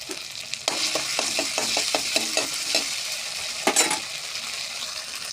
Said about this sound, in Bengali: আস্তা জিরা বাটা দিয়ে মিক্স করে নেবো তেলের সাথে